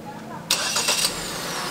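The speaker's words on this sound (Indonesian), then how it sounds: "Sekarang kita hidupin mesin mobilnya." A Wuling Almaz RS car engine starts with a short crank and catch, settling into a steady idle hum that continues alone after the brief burst of starting noise.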